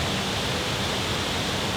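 Steady broadband rush of Cranberry Creek water flowing over rock at Nothstein Preserve in Paradise Township, a continuous even wash with no voices, close and moderately loud throughout.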